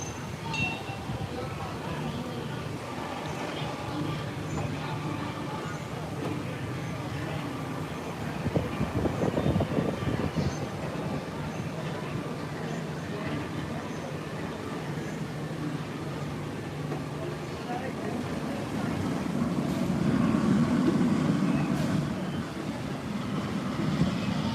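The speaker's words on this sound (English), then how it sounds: "Let's watch a mine train car go by" Mine train roller coaster car at Magic Kingdom rumbling past outdoors, a broad rolling roar swelling and fading twice over steady park crowd noise and distant voices.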